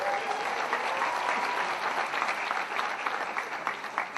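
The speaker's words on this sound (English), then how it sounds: "please give them a loud round of applause" An audience at a film school convocation ceremony applauds for student diploma films, a dense, steady clapping that holds loud throughout before tapering slightly.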